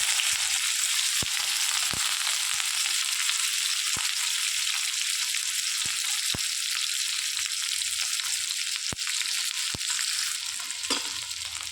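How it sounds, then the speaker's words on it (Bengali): Onion and garlic frying in oil in a wok, a steady loud sizzle running throughout with occasional sharp clicks of stirring, no voices. "এবার কড়াই তেলের মধ্যে এখানে দিয়ে দেব পেঁয়াজ আর রসুন কোচানোগুলো দিয়ে দেবো।"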